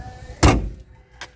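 A damaged car door is opened and shut, one solid close-up thunk followed a moment later by a fainter second knock.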